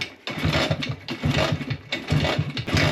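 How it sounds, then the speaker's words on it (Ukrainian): A motorcycle engine being kick-started repeatedly, giving a string of rhythmic chugging, sputtering bursts that rise and fall without catching, close and fairly loud, with no voices. "Я, звичайно, раз 10 диркаю, а потім включаю і заводиться."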